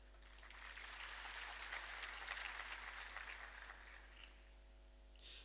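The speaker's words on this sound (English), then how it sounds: "warm applause, please" An audience claps warmly at a livestock and veterinary event, a dense and fairly faint patter of many hands that holds steady for several seconds before thinning at the end.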